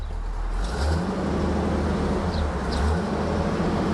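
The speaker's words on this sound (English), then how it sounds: "Leave it in park and rev it up." A 1978 Pontiac Firebird Trans Am engine idles low and steady in park, then revs up twice in quick bursts before settling back, with no voices.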